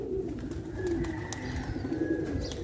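A moon pigeon coos steadily and close by, a soft low repeated call that runs the whole time, with faint chirps from other birds behind it.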